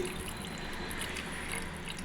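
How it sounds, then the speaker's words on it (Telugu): Tamarind extract pouring steadily into a pan, a soft, continuous splashing close by for a couple of seconds. "ఒక నిమ్మకాయ సైజ్ అంతా చింతపండు పులుసు వేసుకోవాలి"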